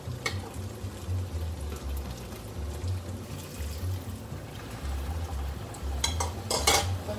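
A spoon stirs risotto in a pan after veggie broth is added, giving soft scraping and rubbing with occasional clinks of utensil on pan, close and moderately loud with no talking.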